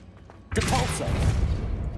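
A Depulso spell cast in Hogwarts Legacy bursts in suddenly as a loud whooshing blast, then a sustained rumbling, crackling wash fills the rest of the moment.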